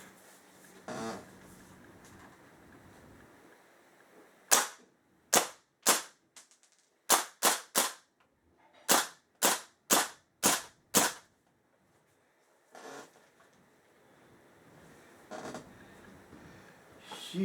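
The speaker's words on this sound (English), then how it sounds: "I think that thing's firing a couple at a time" A Springfield Armory M1 Carbine CO2 BB gun fires about ten sharp, loud pops, in a quick uneven string with short gaps, against a quiet outdoor background.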